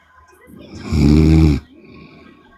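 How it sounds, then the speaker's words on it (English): A person on a livestream snores once, a deep, rattling snore lasting about half a second, loud and close over a faint background murmur. "I think it was one of those weird people that request up and then snore."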